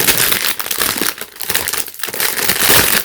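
Crinkly plastic packaging of a budget craft and decor haul item is crackled and crumpled while being torn open, a loud, continuous close-up rustle with brief lulls, no talking.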